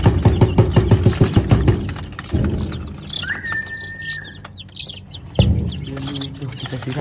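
Small newly hatched chicks, two days old, peep and chirp in rapid, high bursts close by on a ranch, with soft rustling and a few thumps around them.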